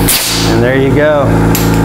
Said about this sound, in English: This is actually a finishing nailer.